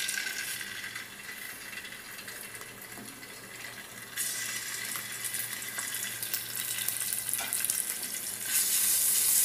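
Fish dropped into hot oil for frying, giving a steady hissing sizzle that swells sharply about four seconds in and grows louder again near the end, with no talking.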